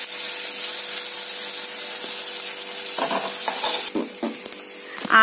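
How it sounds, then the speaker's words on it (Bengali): Fish fat fries in a pan with a bright, close, continuous sizzling hiss, followed by a few scraping stirs and clinks toward the end. "আমুদি মাছটা ভেজে রেখেছি, আর মাছের তেলটা ভাজছি।"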